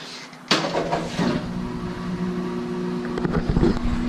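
A washing machine switched to drain and spin starts up abruptly, its motor or pump settling into a steady droning hum with rising rumbles toward the end, no speech over it.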